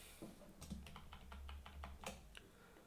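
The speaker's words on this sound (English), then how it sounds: "I pressed escape and then A to go to the answer, then Control A to select, and then delete key" Computer keyboard keys are pressed in a quick, irregular run of close, crisp clicks and taps, with no voice.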